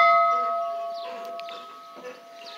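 A pull-string bell fitted to a 1930 Chevy fire truck rings with a bright, sustained tone that decays slowly across the whole moment, heard alone with a few faint background rustles.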